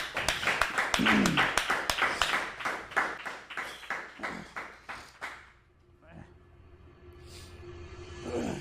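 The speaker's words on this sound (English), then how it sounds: "Clap it up, man." A small group clapping in a steady, brisk rhythm, close and fairly loud for about five seconds before fading out, followed by a quieter stretch with a few faint sounds.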